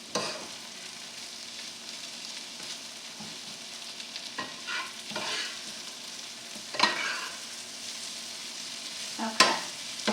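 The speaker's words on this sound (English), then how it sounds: "you can see the onions and mushrooms, everything's starting to caramelize as we're cooking it" Onions and mushrooms frying and caramelizing in a pan for mushrooms oreganato, a continuous close sizzle broken by several scraping stirs and utensil knocks, with no talk.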